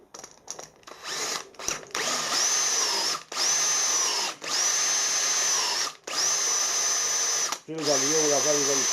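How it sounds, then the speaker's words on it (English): A power drill bores a hole through a drill guide gauge with lubricant applied, whining in several sustained bursts separated by short pauses, close and loud throughout. "So now we can use that to drill the hole."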